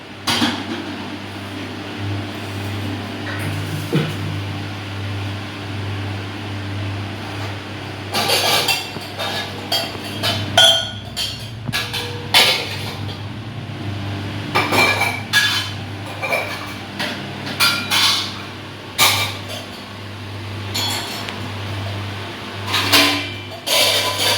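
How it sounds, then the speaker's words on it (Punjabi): Washed dishes, pots and steel utensils being put away in a home kitchen, with irregular bursts of clinking and clattering over a constant low fan hum. "ਭਾਂਡੇ ਟਿਕਾਉਣ ਦੇ ਪਏ ਆ"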